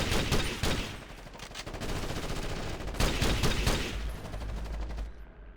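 Rapid bursts of gunfire in the video game Ghost Recon Advanced Warfighter, a dense rattle of automatic shots in several volleys, loud and close, with a short lull before a final sustained stretch.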